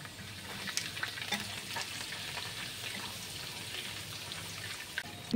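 Garlic paste and curry leaves sizzle in hot oil with cashews, a soft continuous crackle with scattered pops and light stirring scrapes, fairly quiet and close, ending with a sharper clatter.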